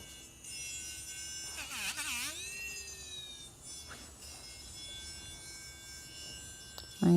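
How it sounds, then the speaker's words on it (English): A dog groomer's nail drill runs steadily through the clip as a thin, high whine with a buzzing edge that sounds off from normal, while a dog whimpers loudly partway through. "My nail drill sounds funny."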